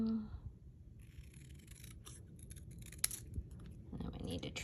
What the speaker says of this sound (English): Now we need to trim this side just a little bit.